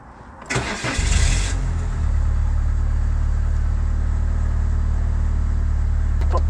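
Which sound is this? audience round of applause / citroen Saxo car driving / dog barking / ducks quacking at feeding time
citroen Saxo car driving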